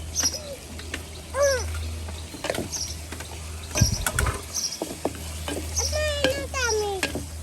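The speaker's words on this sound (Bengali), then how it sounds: "আর দিয়ে দিতেছি টমেটো কুচি" Chopped tomato going into a pan of hot oil in a village kitchen, with steady sizzling and some stirring, while birds chirp and call clearly in the background throughout.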